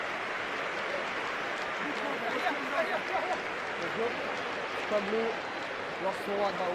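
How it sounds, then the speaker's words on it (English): Steady crowd applause rises and falls for a rugby player, Dino Waldron, during a USA versus Samoa match, a dense wash of clapping from the stands heard at a distance, with commentary running over it. "And a big applause for Dino Waldron."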